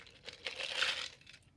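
Pennies and dimes being taken out and handled, a brief close metallic clinking and rustle lasting under two seconds, fairly quiet with no talking.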